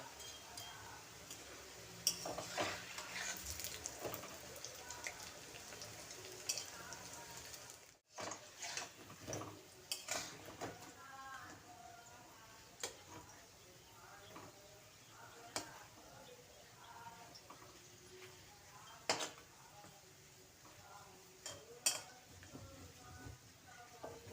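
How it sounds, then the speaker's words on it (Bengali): Evening snacks frying slowly in hot oil over a lowered flame: a faint, soft crackling sizzle scattered with small ticks and pops throughout. "তেল গরম হয়ে গেছে এখন আমি ভেজে নেব বন্ধুরা চুলার আঁচটা কমিয়ে আমি ভেজে নেব"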